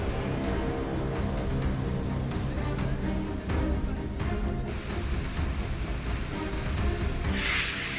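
Steady heavy downpour during monsoon flooding in Mumbai, a dense continuous hiss of rain with a few sharper splashes and no voices.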